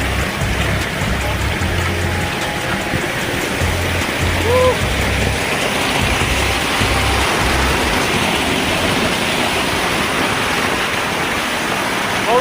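Clear water pours straight down from above in a waterfall, a constant close rushing roar that fills the whole stretch without break.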